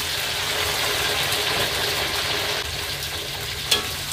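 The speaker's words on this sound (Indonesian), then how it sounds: "Lanjut ke proses goreng cabenya." Chili peppers fry in a pan at home for pecel seasoning, a dense steady sizzle and crackle with a single sharp pop near the end.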